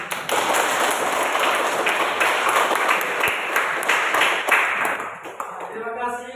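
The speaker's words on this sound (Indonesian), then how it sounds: "tepuk tangan" A class of students claps together in a classroom, a dense burst of hand claps that carries on for several seconds before fading, with a few voices mixed in.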